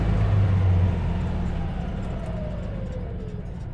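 A British-built 1955 Citroën 2CV with a 425cc engine comes to an emergency stop, its small engine note droning and then easing down as the car slows, with a low rumble throughout.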